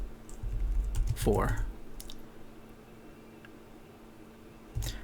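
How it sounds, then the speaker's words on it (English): Keys clatter in a quick burst on a computer keyboard, then a single firmer keypress near the end, close and moderately loud, with a brief voice in between. "we just click the enter key to see what it comes up with"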